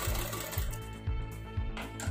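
A sewing machine stitches folded saree fabric onto blouse lining, running in a quick steady rhythmic clatter with regular needle beats about every half second, close and fairly soft, with no talk.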